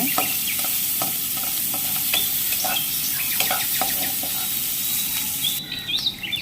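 Onions frying lightly in oil in a pan for a jhatka fish curry, a steady broadband sizzle with stirring scrapes and clinks throughout, close and fairly loud, with no talking.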